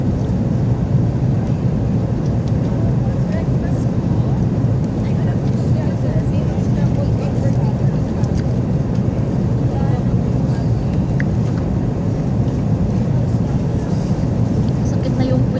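Steady, loud, unbroken rumble and hiss of an airliner cabin in flight, filling the background while people talk over it.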